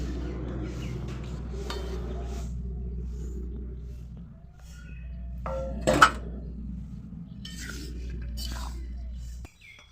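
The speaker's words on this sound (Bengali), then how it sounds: "গ্যাসের জালটা মিডিয়ামে রেখে চালের গুঁড়োটা অনবরত ঘাটতে হবে" Rice flour stirred in a heated wok (kadai) over a medium gas flame, scraping and clinking softly and steadily against a low rumble, with one louder clatter partway through.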